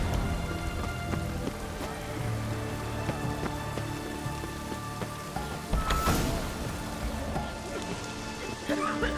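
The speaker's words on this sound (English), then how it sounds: "Looks like rain." Steady rain patters on surfaces in The Witcher 3: Hearts of Stone, a dense continuous hiss of drops at moderate level, with a brief louder splash or rumble partway through.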